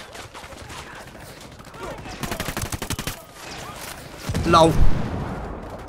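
Bursts of gunfire from the video game Ghost Recon Wildlands crackle in rapid volleys, with a louder, heavier barrage near the end, while a voice speaks briefly between shots.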